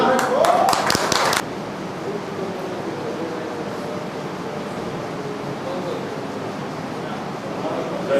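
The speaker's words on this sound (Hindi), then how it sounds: "ताली बजाइए।" A short burst of clapping from a group at a school teacher training session in the first second or so, then steady room noise with faint background voices.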